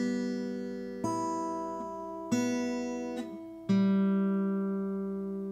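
Three fingerpicked acoustic guitar notes, plucked with the first three fingers, ring out one after another at an unhurried pace, each left to sustain and overlap, played alone without talking.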